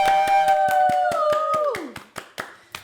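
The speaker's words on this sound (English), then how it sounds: "Can we give a round of applause for Hadarii and Monivia" A podcast crowd claps for Hadarii and Monivia Jones, sharp evenly spaced handclaps close by, running under a sustained tonal sound that bends downward, then trailing into a few isolated final claps.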